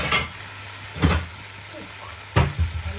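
Jamaican curried chicken simmering in a covered black pot, a soft steady bubbling and sizzle broken by a few sharp clanks of a lid or spoon against the pot.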